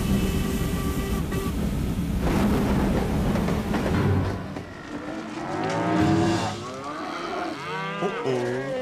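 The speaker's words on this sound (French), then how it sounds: "Je dois filmer cette vache sauvage!" A wild cow lows with long, loud moos over a rumbling train and animal noise, the lowing rising and repeating in the second half.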